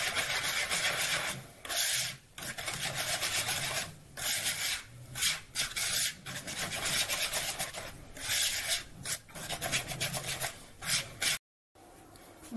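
Brownie batter made with flour and a pinch of fleur de sel is mixed by hand in a bowl, giving a continuous rubbing, scraping sound in repeated strokes with short pauses. The sound is close and alone.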